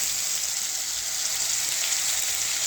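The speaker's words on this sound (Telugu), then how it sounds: "చికెన్ కూడా వేగాలండి." Chicken frying in a pan with onion and tomato paste for a curry, giving a steady, dense sizzle that stays even and close throughout, with no voices.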